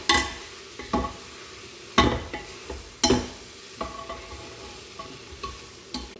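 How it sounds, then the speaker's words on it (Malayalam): Chicken leg pieces are stirred in a spiced pan, giving a soft steady sizzle of frying broken by sharp scraping strokes of a spoon against the pan every second or so. "പൊടികളെല്ലാം ചേർത്തു നന്നായി അരിഞ്ഞ് ഇളക്കിയിട്ട് നമുക്ക് ലെഗ് പീസ് ആഡ് ചെയ്യാം"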